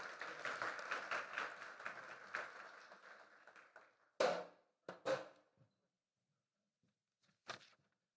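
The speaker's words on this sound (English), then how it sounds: "Let's give a round of applause as we welcome Mayor Cowan to the stage." Audience applause welcoming the Mayor of Brownsville to the stage at a kickoff event, clapping that fades out over about four seconds, followed by a few isolated loud thumps and knocks in near silence.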